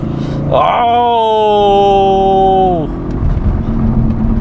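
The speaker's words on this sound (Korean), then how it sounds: "패드 시프트 살짝만 당긴 다음에 가속 페달 한번 밟아보도록 할게요" Audi RS5 with a 450-horsepower V6 revving up hard after a paddle-shift downshift, its engine note climbing in steady harmonic tones for about two seconds before the throttle lifts. It sounds loud and close, heard from inside the cabin, with no talk over it.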